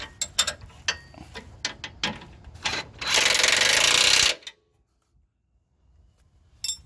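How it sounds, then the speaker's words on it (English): A 19 mm control arm bolt on a Toyota 4Runner in for front lower control arm replacement is run in with an impact wrench. Clicks and clanks of the socket going on lead into one loud sustained buzzing burst about a second long, then quiet. "I'm going to use an impact to tighten it up a little bit first"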